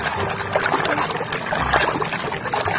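Water from a Sanyo pump sprays and splashes over toy garbage trucks being washed, a steady close trickling and pouring stream running continuously without a break.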